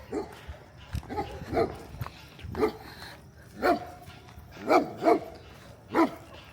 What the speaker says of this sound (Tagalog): Ayun yung aso eh, yung tumatawal eh.